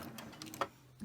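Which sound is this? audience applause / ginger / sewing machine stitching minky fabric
sewing machine stitching minky fabric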